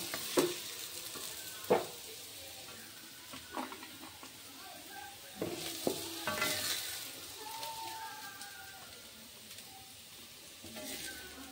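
Cashews sizzle as they fry in a kadai, with a steady crackle broken by sharp scraping stirs and a few louder clacks against the pan.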